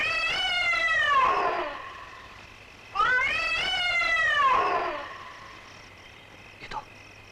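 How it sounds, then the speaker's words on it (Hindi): A cat meows twice in a horror film, each call long, drawn-out and wavering, close and clear over quiet, with a short faint thump near the end. "उसी बिल्ली की आवाज है।"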